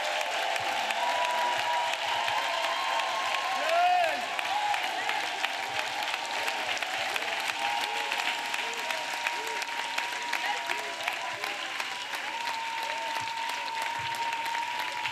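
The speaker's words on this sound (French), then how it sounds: "Let us clap for Jesus Christ." A church congregation at a prayer and intercession service claps for Jesus Christ: continuous, dense hand-clapping from many people, steady and fairly loud throughout, with some voices rising over it.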